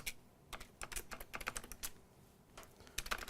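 Keys on a computer keyboard tapped in quick irregular bursts while entering a command-line instruction, with short pauses between clusters of clicks, fairly close and unaccompanied by speech.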